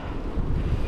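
Strong headwind buffets the microphone during a bike ride along the Kattegattleden coastal route in Sweden, a loud, steady roar of gusty rumble with no one speaking.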